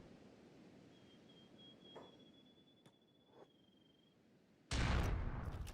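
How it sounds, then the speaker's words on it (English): Sniper rifle in the Kenshi video game: a few faint, sharp cracks over low background hiss, with a thin whistling tone, then a sudden loud burst of broadband noise near the end. "I want to test out that sniper rifle"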